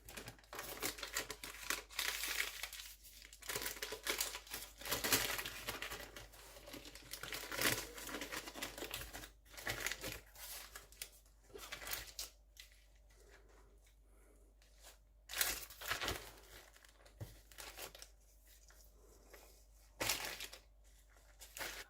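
A rolled spinach roulade with smoked salmon is wrapped in baking paper or foil, giving repeated close crinkling and rustling of the sheet in bursts with short pauses, no talk.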